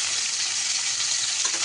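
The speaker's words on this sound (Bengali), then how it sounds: "পটলটা যতক্ষণ ধরে ভাজা হচ্ছে" Pointed gourd (potol) frying in hot oil makes a steady, close, hissing sizzle that fills the short moment evenly, with no voices.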